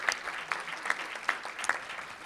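An audience at a Rotary Club meeting in Tucson gives a short burst of applause, with light, scattered claps at moderate distance.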